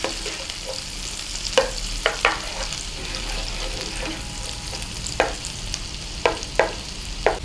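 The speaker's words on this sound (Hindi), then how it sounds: "और इसके साथ ही हम डाल देंगे ये क्रश्ड गार्लिक। इसे थोड़ा भूनेंगे।" Crushed garlic sautéing in butter for garlic butter chicken, a soft steady sizzle with several sharp clicks and scrapes of a spoon against the pan.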